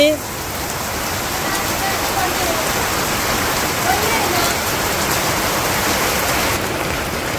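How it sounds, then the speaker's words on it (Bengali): Heavy rain pours steadily at a rural home in Bangladesh, a dense, loud hiss of drops on surfaces that continues without a break for the whole stretch, with no voices over it. "বৃষ্টির অবস্থা ভয়াবহ অবস্থা"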